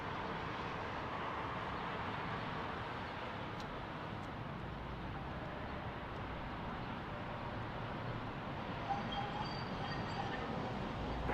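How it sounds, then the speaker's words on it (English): An Airbus A320neo jet airliner departs Salt Lake City, its engines a steady, broad roar that stays loud and unbroken throughout, with no talk over it. "Airbus A320neo headed to Las Vegas now"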